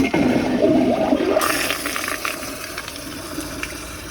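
An American Standard Cadet pressure-assist toilet flushes a dish towel and washcloth: a loud, forceful whoosh bursts at once, then settles into a rushing, gurgling drain and refill.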